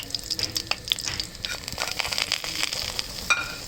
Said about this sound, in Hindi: ये देखिए मैं सूजी ऐड कर रही हूँ इसमें